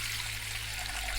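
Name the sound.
water being poured into a vessel for steaming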